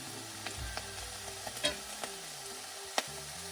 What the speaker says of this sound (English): We are going to throw them right here into the frying pan.